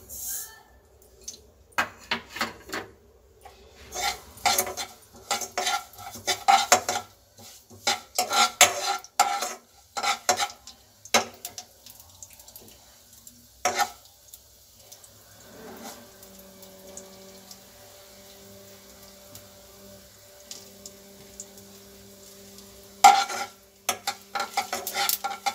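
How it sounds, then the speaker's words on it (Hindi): Mustard seeds dropped into a little hot oil for a dhokla tempering, giving scattered sharp pops and crackles with utensil clinks and stirring, and a steady faint hum in the later part. "ये हमने थोड़ा सा ऑयल डाल लिया है। अब हम इसमें जो है राई डालेंगे।"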